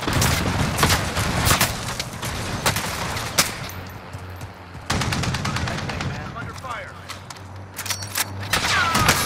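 Gunfire rattles through a video game battle royale fight, with dense bursts of rapid automatic shots and scattered single cracks, loud and close, plus intermittent distant fire as a person talks over it.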